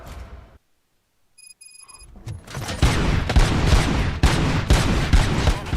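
Dense bursts of gunfire in the shooter game Robocop: Rogue City erupt after a brief silence and a few electronic beeps, with loud rapid shots and booms continuing steadily to the end.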